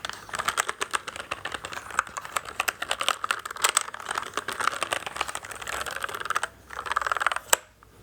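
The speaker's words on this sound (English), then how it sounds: "You can use your nails to run along the keys." Fingernails running along plastic computer keyboard keys, a dense, rapid clicking and rattling that carries on nearly nonstop, close-up and crisp, ending with one sharper click.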